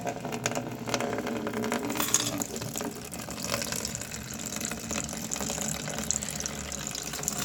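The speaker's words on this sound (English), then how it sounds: "I'm just going to pour it into this bowl here and" Coin-cleaning liquid poured into a bowl for cleaning clad coins, a steady continuous splashing and gushing pour that runs throughout, fairly close, with no talk.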